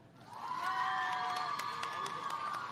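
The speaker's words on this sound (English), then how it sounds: "It's clear Mr. Hall brought his own cheering squad from Hampton School" A crowd at a housing handover ceremony in Malvern, St. Elizabeth cheers loudly for a beneficiary, with high whoops and whistle-like shouts rising over a steady roar of voices and some applause.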